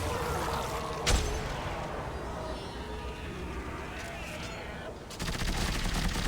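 Sniper rifle shots fired in the co-op video game Dead Space 3: two sharp, loud blasts about four seconds apart over a steady bed of in-game ambient noise.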